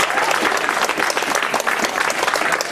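Warm applause fills a room at a 102nd birthday celebration for an elderly woman in Palizzi, a dense, continuous burst of many hands clapping, loud and close, with no talking over it.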